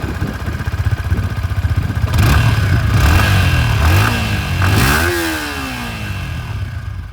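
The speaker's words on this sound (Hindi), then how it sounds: "एग्जॉस्ट साउंड भी मैं आप लोगों को यहाँ पर सुना देता हूँ।" A Yamaha XSR 155 motorcycle engine idles with a throbbing exhaust, then is revved in several blips that rise and fall before settling back to idle, loud and close with no talk.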